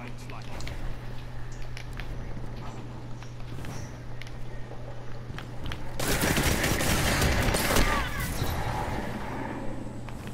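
Rapid gunfire from the video game Destiny 2 erupts partway through, dense bursts over a steady hum and faint footsteps, with a player talking over the action.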